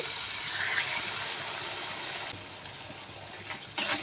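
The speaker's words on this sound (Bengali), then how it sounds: "দেবো একটু জল" Water being poured from a vessel into a pan of bitter gourd curry with tomato and salt, a steady broadband gush that runs for a few seconds, drops off briefly and then resumes near the end, with no talk.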